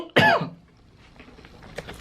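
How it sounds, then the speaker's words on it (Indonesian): A single loud, close throat-clearing cough from someone ill with a cough, followed by quiet room noise and faint small sounds. "main batuk"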